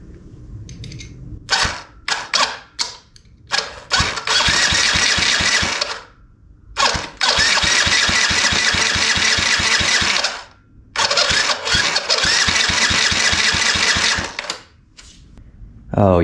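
Small engine with the throttle open being started repeatedly: rapid pull-start bursts, then three long loud runs of crackling, buzzing revs separated by brief pauses.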